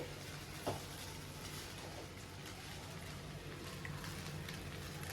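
Chicken fried rice being stirred and tossed in a small wok, a steady hiss of frying with scraping and one brief clatter near the start, close and continuous.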